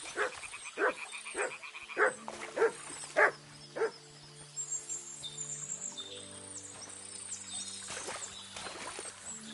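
A dog barks in the video game Kingdom Come: Deliverance II, a run of sharp, evenly spaced barks up front followed by a quieter stretch of ambient outdoor game sound with tonal hums and chirps.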